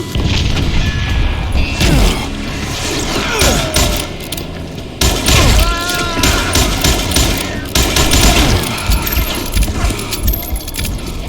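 Rapid gunfire and booming shots fill a Call of Juarez: Gunslinger shootout, loud and continuous for the whole stretch with dense layered blasts and clattering impacts.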